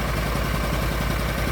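An Argo ATV engine idles steadily after a starter repair, a constant close low rumble with fine rhythmic pulsing and no talking.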